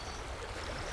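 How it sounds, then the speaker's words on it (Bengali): River water laps and splashes against the hull of a small wooden fishing boat on a breezy rural river, a continuous close wash of waves with no voices. "অল্প অল্প হাওয়ায় নদীর উপর সৃষ্টি হচ্ছে একাধিক ঢেউ, যা নৌকোর গায়ে এসে আছড়ে পড়ছে।"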